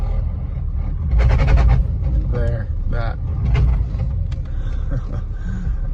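An OM648-swapped car with a failing clutch rumbles at low pitch under throttle, the engine drone rising and falling in surges, with someone talking over it in the cabin.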